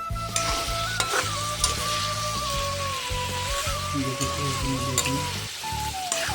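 Potatoes fry in a pan of oil for an Assamese chicken curry, a loud, dense, close sizzle with crackles and a faint tonal hum above it, unbroken and without talk.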